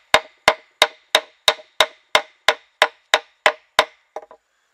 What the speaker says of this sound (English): take our baton and basically pound our blade